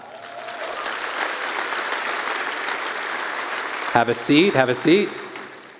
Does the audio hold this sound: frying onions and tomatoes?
no